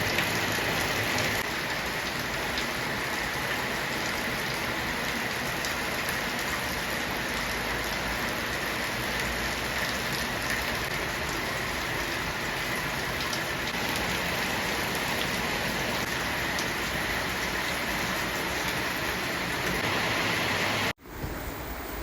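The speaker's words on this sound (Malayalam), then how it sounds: "ഇന്ന് രാവിലെ മുതൽ തന്നെ നല്ല മഴ ഉണ്ടായിരുന്നു." Heavy rain pours steadily outdoors in the morning, a dense, continuous hiss of drops hitting surfaces that holds at the same loud level throughout before cutting off abruptly near the end.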